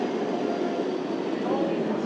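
Steady rumbling and rattling of a moving mountain train in Switzerland heard from inside a carriage, a continuous broadband roar with no break.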